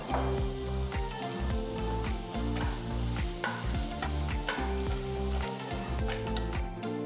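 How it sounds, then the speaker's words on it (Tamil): Red chillies and tamarind sautéing in a pan for chutney, a steady loud sizzle with repeated scraping stir strokes throughout, with a low tonal hum running underneath. "எட்டு சிவப்பு மிளகாய் சேர்த்து வதக்குங்க"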